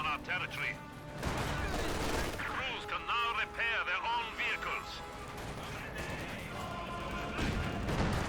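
Gunfire and an exploding rocket grenade in the Company of Heroes 2 strategy game, with dense battle noise and sharp bursts layered over continuous commentary from a caster.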